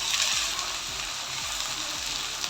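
Onion, ginger and garlic sautéing in a pan for Hyderabadi dum biryani, a dense, steady sizzle close by with a low repeating hum underneath and no speech.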